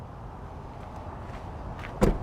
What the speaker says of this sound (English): closing that swing door